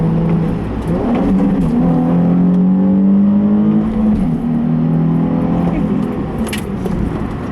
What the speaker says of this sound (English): Take it a little faster on this corner.